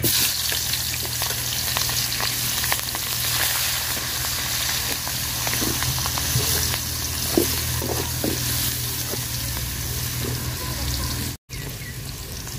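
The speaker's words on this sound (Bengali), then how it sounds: "পেঁয়াজ আর মরিচটা ভাজা ভাজা করে নিচ্ছি" Onion and chilli frying in oil left over from frying fish, a steady close sizzle running the whole time with occasional stirring scrapes, briefly cut to silence near the end.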